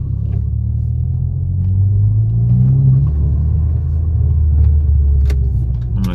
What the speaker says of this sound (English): Going on the road now, taking the car on the road.